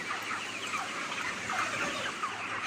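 Chickens crowd a poultry farm shed, a dense murmur of clucking and chattering birds spread across a steady background hum, continuous and moderately faint, with no voices.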